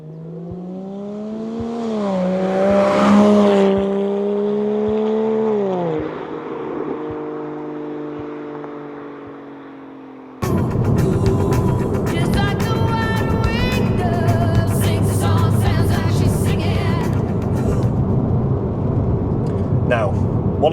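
A Porsche Cayman 987 fitted with a Top Gear valved exhaust drives past. A rising engine drone with shifting harmonics comes first, then a sudden switch to a louder, dense, rough rumble that holds steady to the end. People talk over it.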